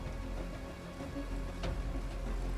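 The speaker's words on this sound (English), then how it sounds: "It's raining." Steady rain falling in the video game Vigor, a dense continuous wash of drops with a brief brighter splash midway, moderately loud and unbroken throughout.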